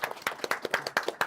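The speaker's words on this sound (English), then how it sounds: "Round of applause for Nico." A small crowd claps at a Titanic anniversary livestream aboard the Queen Mary, a brief burst of rapid, close handclaps that makes a short round of applause.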